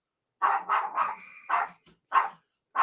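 A dog barks in a close, loud burst of about six sharp barks, some quick and doubled, separated by short pauses in an otherwise quiet indoor room.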